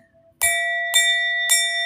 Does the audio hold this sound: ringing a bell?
yes